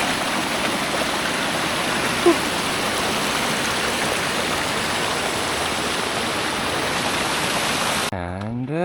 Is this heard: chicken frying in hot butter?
no